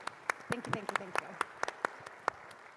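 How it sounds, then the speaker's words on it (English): A sparse round of applause at an annual community meeting is heard as scattered individual claps, a few at first and then spaced sharp hand smacks, with a voice speaking briefly near the start. "I want to have a round of applause for Jordan."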